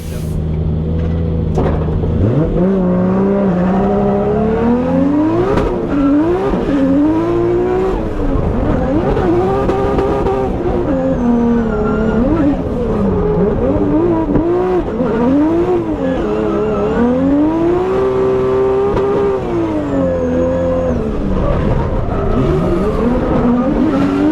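A Nissan S15 race car at a Pro-1 practice session roars loudly and continuously, its engine pitch climbing and dipping through repeated revs and gear changes, heard close from inside the car.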